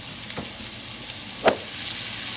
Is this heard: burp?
no